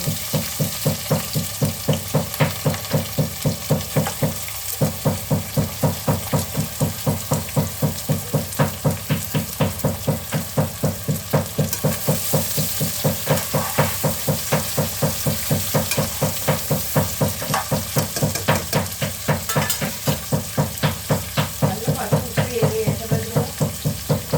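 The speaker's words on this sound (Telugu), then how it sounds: "ఇప్పుడు ఉల్లిపాయ పచ్చిమిరకాయలు కూడా వేసేస్తున్నాను" Onions and green chilies frying in hot oil in a home kitchen, a steady close sizzle with a rapid regular scraping or stirring pulse running throughout, no talking.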